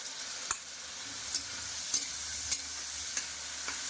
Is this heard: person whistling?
no